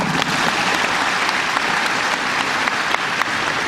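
An audience claps steadily through the whole stretch at a PKKMB 2016 university orientation event at Unipa, a dense, loud wash of many hands with no voices breaking through.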